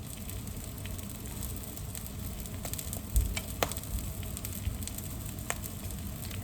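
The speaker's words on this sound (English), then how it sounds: "let everything kind of simmer while the pan cools" Food simmers and sizzles steadily in a pan as it cools off the heat, a dense, even crackle with a few sharper pops and light clicks.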